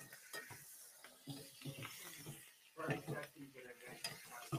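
A sirloin steak is basted as it sizzles in a pan, the spoon scraping and tapping in an irregular rhythm over a low, close crackle of fat.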